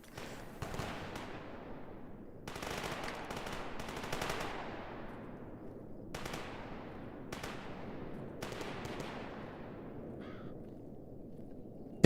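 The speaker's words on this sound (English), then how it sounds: "Gunfire sounds like it's further down the bridge." Bursts of rapid gunfire crackle in several separate volleys in the video game S.T.A.L.K.E.R. G.A.M.M.A., fairly distant and echoing down a bridge, with short quiet gaps between them and no talking.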